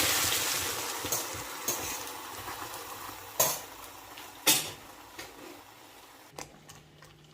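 Onion and tomato paste goes into hot, smoking butter in a pan for paneer butter masala, giving a sizzling hiss broken by a few clanks of a spoon against the pan, with no voices.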